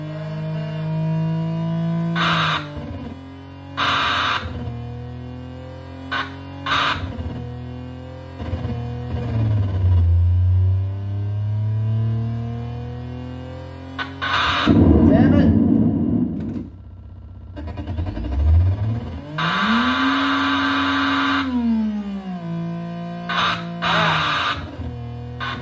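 Racing car engine revving in the Pole Position II arcade game, a loud, continuous electronic whine that climbs and falls in pitch through repeated gear shifts, with bursts of crash-like noise and no talk.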